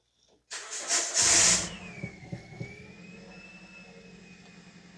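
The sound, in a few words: 2010 Toyota Corolla 1.8 engine starting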